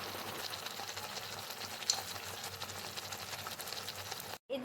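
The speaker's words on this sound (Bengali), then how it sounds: "পাশ ভাজা হয়ে গিয়েছে, তাই আমি পাশ উল্টে অপর পাশটিকেও ভালো মতন ভেজে নিলাম।" Palm-fruit malpua batter frying in a pan, a faint, even sizzle throughout with a brief clatter near the end, no talk.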